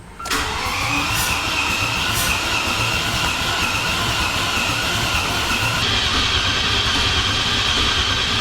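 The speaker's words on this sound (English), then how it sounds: "We're gonna crank on it a little bit and see if we can get some pressure built up." An engine in a Land Rover Discovery swap project is cranked by its starter to build oil pressure, giving a loud, continuous mechanical churning and whirring that runs steadily throughout without catching, with no talk.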